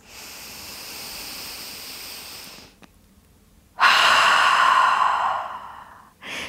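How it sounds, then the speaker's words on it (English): Deep breathing during yoga relaxation: a long soft inhale, a pause, then a louder, breathy exhale through the mouth, close to the microphone, with the start of another breath at the end. "taking some deep breaths"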